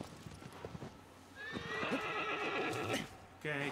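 A horse whinnies loudly in Shadow of the Colossus on PS4 Pro, its rising, wavering neigh lasting over a second amid clopping hooves and faint background game noise.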